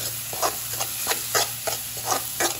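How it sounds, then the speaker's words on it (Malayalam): Ground spices stirred into hot oil in a pan for egg bhurji, giving repeated soft scraping and sizzling strokes at a steady rhythm over a low constant hum, close up and with no talk. "എന്നിട്ട് നന്നായിട്ട് പൊടിയുടെ പച്ചമണം മാറുന്നവരെ നന്നായിട്ട് ഇളക്കി കൊടുക്കണം."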